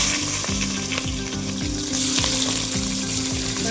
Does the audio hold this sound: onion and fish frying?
yes